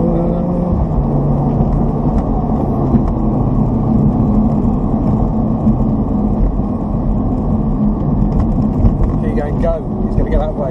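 A V10 engine from an Audi R8 supercar drones loudly and steadily through a lap, with a continuous low rumble and a strong engine tone close up inside the cabin.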